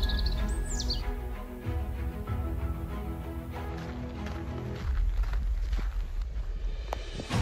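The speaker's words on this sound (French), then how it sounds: "je n'entends que les oiseaux" Birds calling in a quiet forest in the Netherlands, with a few faint scattered chirps and tweets against a low background rumble, along with some rustling footsteps.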